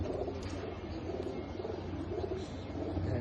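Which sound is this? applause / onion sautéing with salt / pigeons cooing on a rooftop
pigeons cooing on a rooftop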